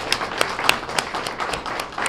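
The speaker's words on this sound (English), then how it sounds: "So let's give all of our breakfast sponsors a great round of applause." Audience applause for breakfast sponsors at a school student-of-the-month event, a short burst of scattered, uneven claps from a modest group, fairly close and clear.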